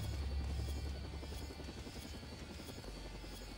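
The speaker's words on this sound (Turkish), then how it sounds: "Helikopter." A helicopter in the video game Killing Floor 2, a steady throbbing rotor chop with a continuous engine drone, heard quietly and unbroken throughout with no voices.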